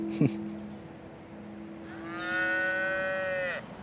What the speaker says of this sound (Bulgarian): аз доста харесвам кравички и всякакви животинки